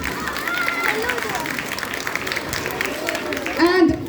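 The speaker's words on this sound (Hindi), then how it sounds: "तो आपने अपने लिए ताली बजाई" Audience applause at a school Mother's Day celebration: dense, steady clapping from a crowd fills the whole stretch, with a voice speaking over it.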